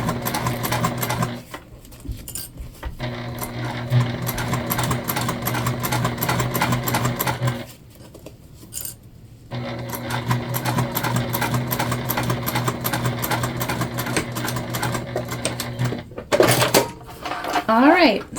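Sewing machine top stitching an Olivia Bag, running in long rapid bursts with brief pauses between them, close and loud, with a voice speaking over the stitching.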